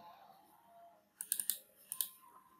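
Several quick computer keyboard key presses in two short bursts, loud and close, after a quiet stretch with no talk.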